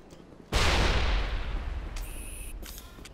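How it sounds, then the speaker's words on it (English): A grenade blasts in the Mass Effect video game, a sudden loud broadband boom that decays slowly into rumbling debris, followed by fainter high electronic tones. "I chucked a grenade at her."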